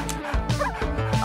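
A dog barks in a few short, close, loud woofs in quick succession, alone with no talking.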